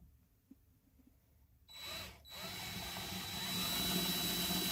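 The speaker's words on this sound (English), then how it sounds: "It's a 1/4 inch hole we got to drill for a 1/4 inch dowel." A power drill bores a 1/4 inch hole into a poplar wooden mallet handle for a dowel, starting with a short whir, briefly pausing, then running steadily and growing louder as it cuts, with no talking.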